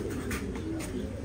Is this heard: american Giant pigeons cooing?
yes